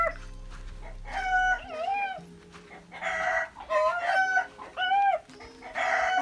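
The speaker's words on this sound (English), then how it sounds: "The chickens." Farm chickens cluck and a rooster crows in repeated bursts, moderately close, with a low engine-like hum in the first couple of seconds and no talking over the birds.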